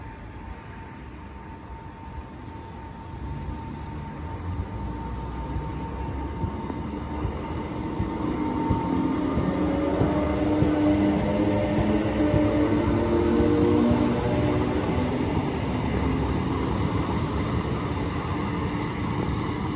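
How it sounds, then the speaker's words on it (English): A Class 319 electric train pulls away from St Helens Junction toward Liverpool Lime Street, its rumble and rising motor whine building steadily to a moderate, continuous roar. "Train now departing is 319 going to Liverpool Lime Street."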